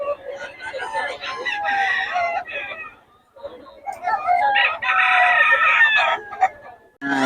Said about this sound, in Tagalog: Oh, ganda ng mga manok ni Boss Gag.